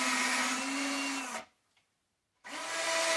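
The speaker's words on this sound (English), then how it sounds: "I'm putting my 1/8 inch pilot holes in, and I'm putting it where the strings are not" A power drill whines steadily while boring 1/8 inch pilot holes for mini blinds. It stops for about a second, then starts again. The sound is near and loud and plays alone.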